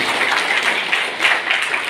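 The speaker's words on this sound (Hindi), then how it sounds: "आप तालियां बजाइए" Audience applause at a town hall program in Doda, a dense steady wash of many hands clapping at moderate loudness, continuing evenly without a break and without voices.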